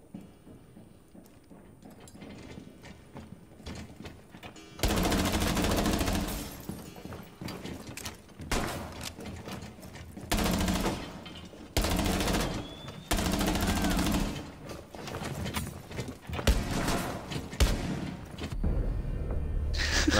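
Gunfire in a Rainbow Six Siege 1v1 match comes in loud, abrupt bursts of rapid automatic shots, separated by quieter gaps over a low game backdrop.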